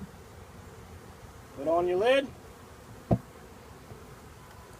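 Package honeybees being shaken into a hive give a brief, rising buzz, followed by a sharp knock, while a person talks nearby.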